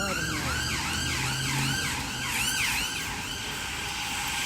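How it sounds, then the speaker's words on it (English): A distant emergency siren wails in the background, its pitch sweeping up and down in a repeating cycle for several seconds under steady low street noise. "with a siren in the background"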